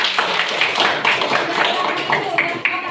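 Classroom applause rings out for a student group, a short burst of quick, close hand claps with a voice talking over it.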